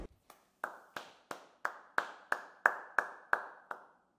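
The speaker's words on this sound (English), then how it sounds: "Come on, clap." A single pair of hands claps about a dozen times at an even, brisk pace, each clap sharp and close, with brief silence between them.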